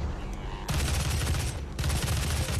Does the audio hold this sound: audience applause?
no